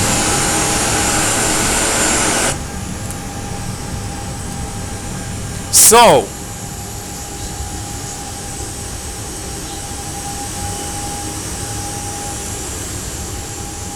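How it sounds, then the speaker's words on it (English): An Airbus A320 with CFM engines runs with a steady broad roar that is louder at first and then settles lower, broken by one brief sharp burst midway; a single short word is spoken. "Did you hear the exhaust kicking in? The exhaust was just kicking in real good."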